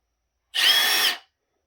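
A single short burst of a Milwaukee M18 Fuel cordless hammer drill whirring at high speed, loud and close, starting and stopping abruptly in under a second.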